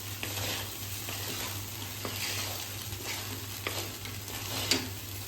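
Salt being stirred into poha (flattened rice) in a pan, a steady soft scraping and rustling with a faint sizzle underneath, continuous at moderate loudness with no talking.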